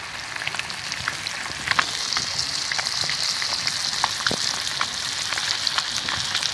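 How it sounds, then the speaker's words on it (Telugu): Fish frying in a pan of oil, with oil spooned over the top: a steady, close sizzle dotted with sharp crackles and pops throughout. "ఇట్లా ఫ్రై అవుతాయి ఎక్కువ నూనె తీసుకుంటే ఇట్లా పైన పోసుకోవాలి మంచిగా ఫ్రై అవుతుంది"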